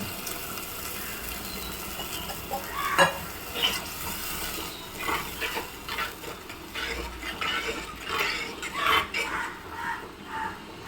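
Tamarind water stirred into a simmering potato pepper kuzhambu in a pot, with soft bubbling, sizzle and scraping of a spoon against the metal pan, a few louder clinks, no talking.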